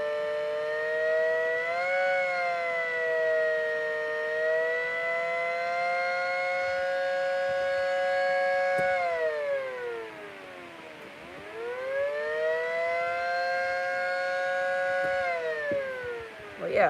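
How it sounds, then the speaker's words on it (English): A Federal Signal Model A siren winds at low pitch, a loud sustained wail that holds steady, dips sharply as it slows, then winds back up to a steady tone again. "I guess I could sound off all my sirens"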